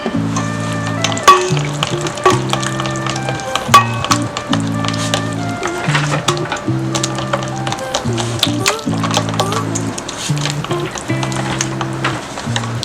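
Banana bread batter is stirred in a bowl with quick, repeated tapping and scraping strokes, close up, over steady background music with a low repeating pattern.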